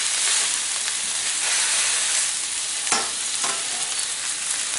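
Homemade Italian sausages fry in a greased pan with a loud, constant sizzle and crackle, broken by a couple of brief scrapes as they are turned.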